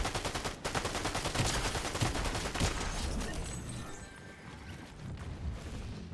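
Sustained rapid gunfire in Fortnite, a steady close stream of shots for the first few seconds that thins into scattered, more distant shooting and faint battle noise.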